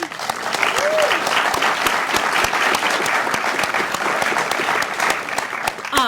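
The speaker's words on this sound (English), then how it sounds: "let's give a big round of applause to our sponsors" An audience at a youth summit plenary session gives steady, continuous applause, with dense clapping filling the hall for several seconds.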